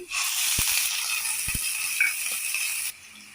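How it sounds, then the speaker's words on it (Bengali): Onion and garlic paste hits hot oil tempered with fenugreek seeds in a pan for bhindi, giving a steady loud sizzling hiss that runs for about three seconds, with a few soft clicks, then drops off abruptly. "এখন আমি পেঁয়াজ বাটাটা রসুন বাটাটা দিয়ে দিচ্ছি।"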